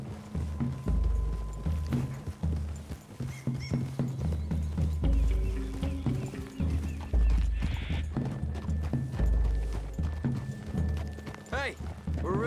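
Horses trot through a forest clearing in Red Dead Redemption 2, their hooves clip-clopping in a steady rhythm with occasional snorts and tack jingling, while characters talk over them.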